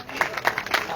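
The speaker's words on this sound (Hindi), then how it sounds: "भरपूर तालियों में इस्तकबाल करें जी।" Brief, lively clapping comes from an audience welcoming a guest onto the stage, with loose rhythmic claps that are fairly close and fill the whole second.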